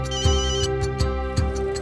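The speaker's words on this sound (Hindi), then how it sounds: "जरूर माया का ही होगा। मैं ही फोन ही बंद कर देता हूँ" A mobile phone ringtone plays loudly and close, a bright electronic melody repeating in quick rhythmic pulses over a steady tone, with no voices.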